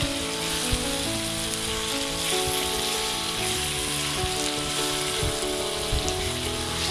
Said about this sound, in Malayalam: നമ്മുടെ ചിക്കനുമായിട്ട് ഈ മസാലയെല്ലാം നന്നായിട്ടൊന്ന് ഇളക്കി പിടിപ്പിക്കണം.